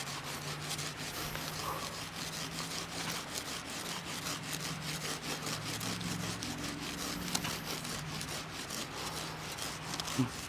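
A wooden board scrapes across the top of a freshly poured wet concrete wall on a model construction site, producing steady, rhythmic rasping strokes at moderate level with no speech.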